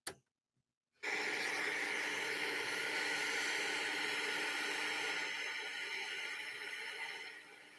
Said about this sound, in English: I could fall asleep to that. I know,